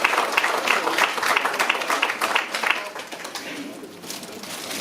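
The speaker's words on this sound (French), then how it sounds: "On peut encore l'applaudir." At a municipal New Year reception for town staff, an audience claps for a retiring employee. The applause is fairly loud at first and gradually thins and fades, with faint voices underneath.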